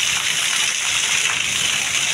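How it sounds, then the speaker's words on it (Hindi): Rainwater rushing through a full street drain during a downpour, a loud, constant broadband gush with no breaks and no talking. "नाली भर भर के चल रही है।"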